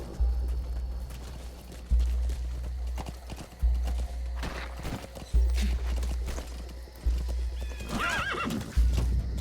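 Horse hooves clip-clopping at a steady gait in the Metal Gear Solid V video game, with regular heavy thuds, a loud whinny near the end and no talking.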